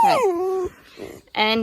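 A dog whimpers and cries for attention close by in a home craft studio, with high, drawn-out whines as someone speaks briefly in between.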